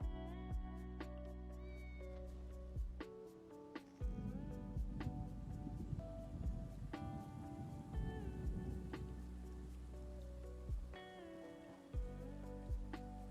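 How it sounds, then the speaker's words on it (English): Steady rain and rumbling thunder from a storm in the video game Elder Scrolls Online, with a soft musical score playing over it and periodic low booms throughout. "ESO has such good storm sounds."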